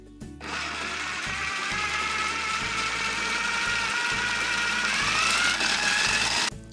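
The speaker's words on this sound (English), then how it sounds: "your food processor and we're going to give this a quick pulse a few times" A kitchen food processor whirs, grinding thick grains finer for a vegan fettuccine Alfredo sauce, a steady loud motor whine that starts abruptly, holds with slight wavering pitch for about six seconds, then cuts off.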